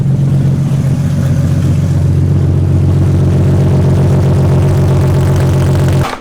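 A BMW E30 fitted with an S52 engine and open headers drives along, its loud, raw exhaust droning steadily and close throughout before cutting off abruptly at the very end.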